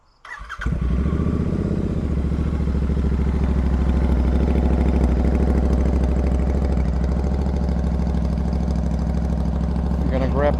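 A 2020 Royal Enfield Continental GT 650 sits in neutral: the engine fires up with a brief burst, then settles into a steady, close, loud idle with a rhythmic mechanical clatter throughout.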